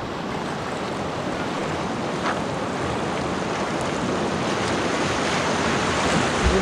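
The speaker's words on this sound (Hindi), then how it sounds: "पूरा पानी का तेज हवा" Strong wind and rushing water along the road from Itanagar to Sagalee, a continuous loud roar with buffeting gusts across the microphone, steady from start to finish without speech.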